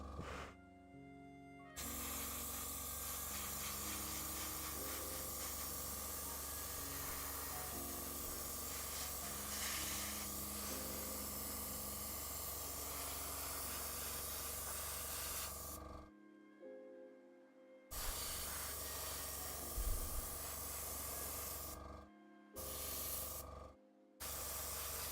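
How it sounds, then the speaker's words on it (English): Aerosol spray paint hisses in long, steady bursts onto Warhammer 40k miniatures, close and fairly loud, broken by short pauses and a few clipped final bursts with near-silence between them. "so many different angles that I need to spray out on this"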